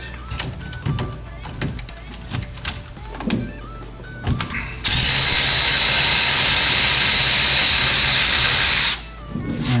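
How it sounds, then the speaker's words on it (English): An 18 mm ratchet working a ball joint nut on a Honda Civic, with rapid close clicking bursts followed by a long loud continuous mechanical whir, like a powered ratchet spinning, then stopping. "with the 18 millimeter, you're gonna remove the ball joint nut."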